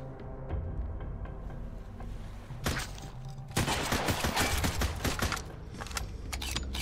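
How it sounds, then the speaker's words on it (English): In the Sunkenland survival game, a pirate machine gun lets loose a few early shots, then dense, rapid bursts of gunfire crackle loudly for several seconds, with no talking. "Definitely they have a machine gun."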